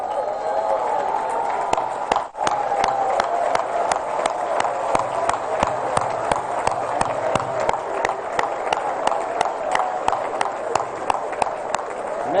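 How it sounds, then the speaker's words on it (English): An audience on its feet applauding for president Iya Mohamed at a formal ceremony: sustained, even crowd clapping with sharp individual hand claps standing out throughout, with one brief dip early on. "je vais vous prier une fois de plus de vous lever et d'applaudir pour le président Iya"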